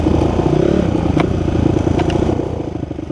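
A Honda CRF dirt bike rides through Bunyip State Forest, its engine loud and close with a steady rumble and occasional clatter from the terrain.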